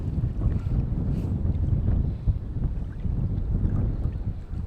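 Wind buffets a packraft out on the lake Ullswater, a constant low rumbling roar of microphone wind noise with faint watery movement beneath it.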